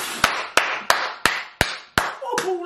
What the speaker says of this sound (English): That's all I'm going to do is clap.